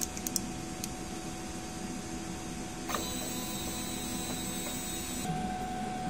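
A DTF printer runs a head-cleaning cycle, producing a steady mechanical hum with faint ticks and a brief shift in tone partway through, with no talking.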